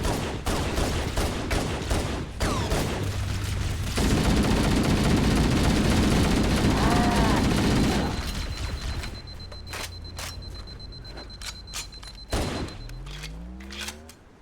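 Assault rifle gunfire in Halo CE Anniversary, rapid automatic bursts mixed with other combat noise, most intense in a sustained stretch near the middle, then thinning into scattered shots and impacts.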